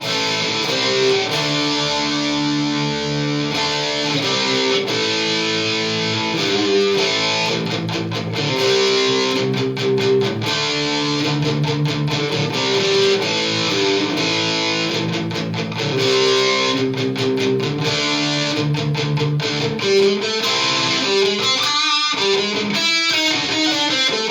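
An electric guitar plays a continuous riff through a Fender Supersonic amplifier with a light touch of reverb, loud and sustained with no talking.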